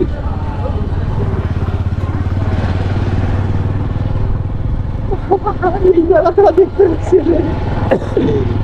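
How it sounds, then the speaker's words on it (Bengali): A motorcycle engine runs steadily as the bike turns on a rural road near a wooden bridge in Rangpur, a low continuous drone with some clatter; a voice speaks over it toward the end. "বাইক ঘুরি।"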